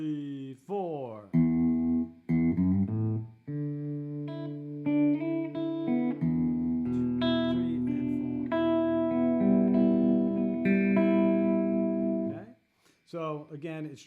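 Guitar chords from a song ring out in a sustained strummed progression, mid-loud and close, framed by brief talking before and after.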